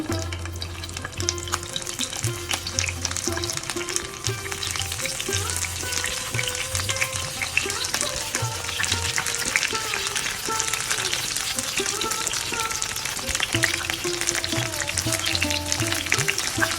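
Hilsa fish pieces fry in hot oil in a pan, a loud, dense and continuous sizzle with crackling spatter and a few faint utensil knocks, close up and with no talking.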